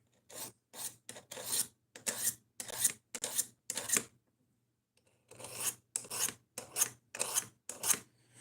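Knife blade drawn repeatedly across a carbide sharpening bar, giving a run of crisp rasping strokes in a steady rhythm, close and clear, with a short pause midway before the strokes resume.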